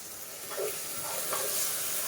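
Masala sizzling and frying in a pan for a homestyle village chicken curry, a steady close hiss with faint stirring scrapes and no talk.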